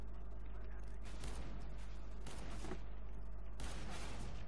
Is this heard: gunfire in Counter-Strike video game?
yes